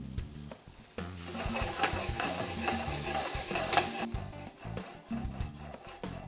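Lemon juice and segments hit a hot pan to deglaze it while scallops cook in a Grenobloise preparation, giving irregular scraping and stirring strokes over a soft sizzle, close and fairly quiet.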